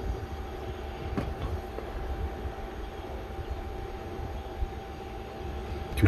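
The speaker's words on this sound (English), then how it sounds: "Compressor is definitely going to pull way more power than the solar panel will feed." A compressor refrigerator runs on power from a 60-watt dual solar panel setup, giving a steady, close, low droning hum with a faint constant whine that holds unchanged from start to finish.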